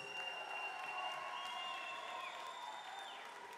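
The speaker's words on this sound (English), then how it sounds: "let's have a nice round of applause for both fighters" Ringside boxing crowd at Gulfstream Park in Hallandale, Florida applauds both fighters after a pro bout, a steady, moderately distant wash of clapping with faint cheering mixed in.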